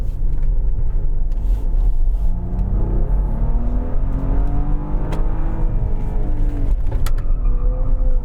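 Maserati Levante S Q4 SUV driving in sport mode with sport suspension, a loud steady engine drone with rising and falling rev tones and road rumble heard from inside the cabin.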